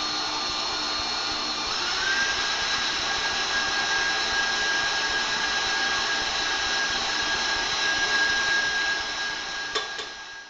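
An electric mixer whirs steadily as butter is beaten piece by piece into chocolate buttercream for a spiced chocolate torte, a continuous close motor hum with a thin steady whine running throughout and no talking.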